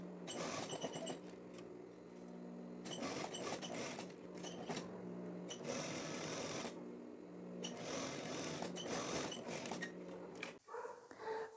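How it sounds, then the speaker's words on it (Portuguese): A sewing machine topstitches around the edge of a shirt collar, running in several bursts of steady mechanical whirring with short pauses between them, close and fairly quiet, with no talking. "agora eu vou fazer um pesponto com uma largura de meio pezinho de máquina, por toda a volta"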